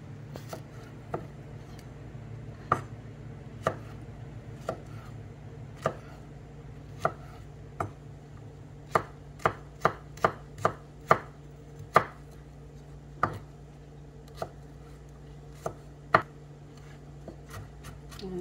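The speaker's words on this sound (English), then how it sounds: "Just cut that into slices." A knife slices peeled food on a cutting board, sharp irregular taps that quicken into a run of close, crisp cuts over a low room hum.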